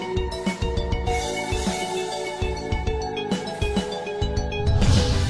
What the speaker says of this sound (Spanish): Me encanta cómo remasterizaron el tema de Bubblegum para usarlo en Duff McWallen.